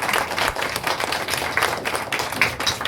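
An audience applauds at a Christmas celebration, a short burst of dense, steady clapping from a crowd, fairly close.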